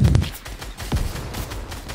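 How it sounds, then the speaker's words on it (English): Gunfire in a video game, a few sharp shots bursting out against a low rumbling game background, with the loudest burst at the start. "Someone's just shooting at me."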